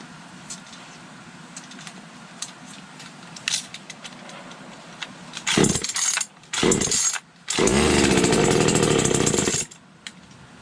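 A Neotec NCS2500 chainsaw is pull-started, sputtering in two short bursts before catching and running loud and close for about two seconds, then cutting out, after quieter rattling and handling sounds.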